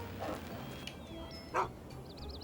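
A dog in the video game Fallout 3 gives a short bark or yip under constant game ambience and faint electronic chirps, with a brief louder burst partway through.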